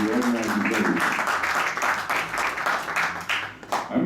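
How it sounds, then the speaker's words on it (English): A church audience applauds at College Street United Church, a dense burst of clapping from many hands that swells and then tapers off near the end. "Everyone, a round of applause for Stephen, who organizes everything."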